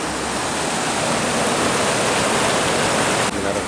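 A large, clear river in Nganjuk is crossed, its flowing water giving a loud, steady broadband rush that stays constant throughout.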